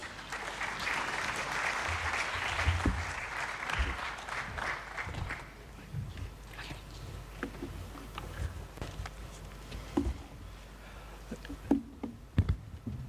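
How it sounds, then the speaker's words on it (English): Delegates at the 57th AFRAA Annual General Assembly applaud in a full round of clapping for about five seconds, which then thins to scattered, sparse claps and faint room noise. "A round of applause."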